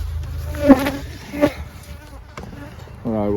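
Honey bees buzzing around open hives in a bee yard, a faint continuous hum broken by a few louder passes of single bees flying close by.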